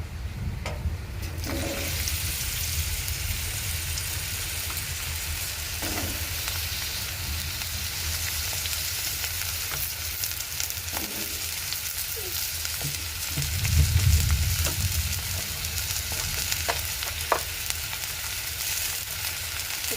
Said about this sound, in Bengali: পটল প্রথমে পটলগুলো ভেজে নেবো